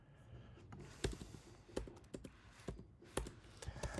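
Bursts of computer keyboard typing come in irregular clusters of sharp clicks, close and fairly quiet, as code is entered, with faint talk in between.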